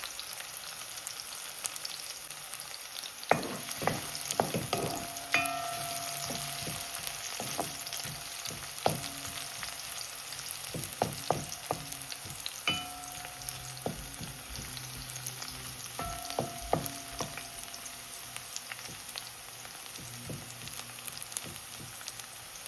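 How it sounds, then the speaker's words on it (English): Corned beef frying in a pot on the stove, a steady close sizzle with scattered crackles and occasional soft stirring clatters, no voices. "I'm gonna go in first and just allow that to fry a little before I add the tomato to the pot and the pepper"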